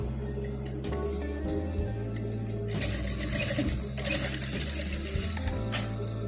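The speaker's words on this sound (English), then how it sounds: "After turning it, I'm going to top stitch on this place so that the pocket will be strong." A sewing machine top stitches a pocket on a pencil-style women's trouser, running in fast rhythmic bursts with needle ticking and brief pauses between runs.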